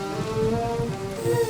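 Steady rain falling on a cool, cold-weather evening, a continuous soft patter with a faint background tone, no voices.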